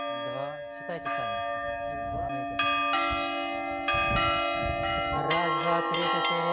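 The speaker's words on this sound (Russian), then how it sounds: "Мы слушаем все большой колокол." A large monastery bell rings with long, humming tones, joined by smaller bells striking in a rhythmic pattern, all ringing loudly with no talking.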